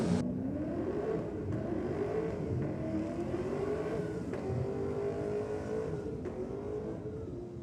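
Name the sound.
race car engine revving, non-Nissan engine in Nissan car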